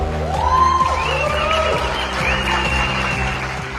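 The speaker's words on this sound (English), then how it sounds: "That is the crowd reacting" A crowd reacts to a Mexican circus performer lifting heavy weight with her hair for a Guinness World Record, with scattered applause and cheering under a rising, swooping tone.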